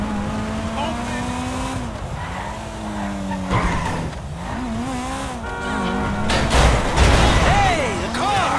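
A car in GTA V on PS5 drives and skids, its tires squealing in long rising and falling whines over steady engine noise, with a heavier surge of motion near the end.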